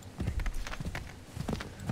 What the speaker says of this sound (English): But luckily we have a horse, so it's gonna be a little bit faster.